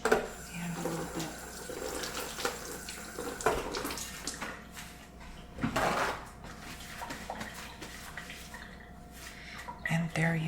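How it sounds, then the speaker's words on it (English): Tap water runs into a kitchen sink as hands are washed, a soft splashing stream with intermittent drips and light clinks, fairly quiet and close, with brief soft speech. "Wash my hand a little bit."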